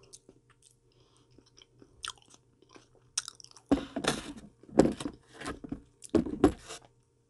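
Someone chewing avocado close to the mic: soft wet bites and crunchy, smacking mastication in several bursts after a few quiet clicks, with no talking.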